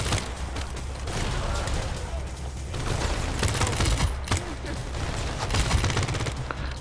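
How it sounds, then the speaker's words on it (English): Sustained automatic gunfire rattles through a heist shootout in the video game Crime Boss on PS5, a dense, steady barrage of rapid shots close by, with a voice talking faintly underneath. "The shooting is not that bad, honestly"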